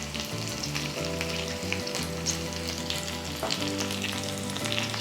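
Stuffed brinjals with a few green chillies frying in oil in a pan, a continuous loud sizzle with crackling throughout and a low steady hum beneath, no voices.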